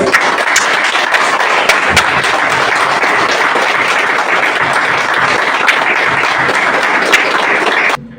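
Loud, sustained applause from a large crowd at a patriotic Turkish gathering, dense and continuous throughout before cutting off abruptly at the end.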